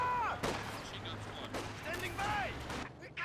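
Rifle fire from Soviet conscripts with SVT rifles in the strategy game Company of Heroes 2, sharp cracks and scattered shots mixed with distant battle noise, whistling and explosions under a steady low drone.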